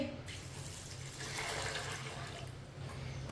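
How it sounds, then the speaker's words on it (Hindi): Steady stream of water splashing into a pot, a continuous rushing pour with no talk. "पानी डाल लेंगे"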